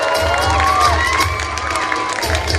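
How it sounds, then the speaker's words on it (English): Students at a school teacher felicitation event clap and cheer for a teacher called to the stage, a dense loud burst of crowd clapping with children's shouts and whistling tones on top. "Day students give a big clap to her."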